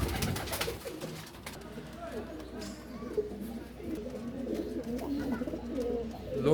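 Pigeons coo in a loft of pigeons kept for sale, a steady low murmur of cooing and bird calls at close range, with someone talking over them.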